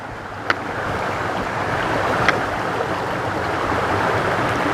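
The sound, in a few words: stream flowing on the Appalachian Trail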